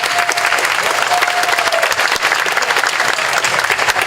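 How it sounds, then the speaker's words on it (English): A festival crowd at the Hmong Wausau Festival gives a round of applause. The clapping is loud and close, a thick, continuous patter at a constant level, with a faint tonal hum threading through briefly. "So if we can give him a round of applause as well too"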